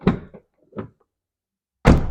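A door being closed and adjusted makes a few close knocks and thuds, first a cluster of short bumps, then a pause and a louder solid thunk at the end.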